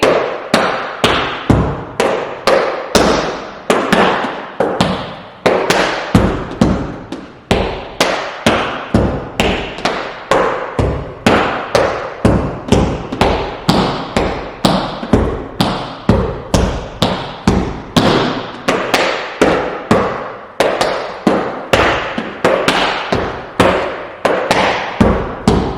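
Tap shoes strike the floor in an intermediate tap dance combination, a long run of sharp, loud, evenly rhythmic clicks and heel thuds with no talk.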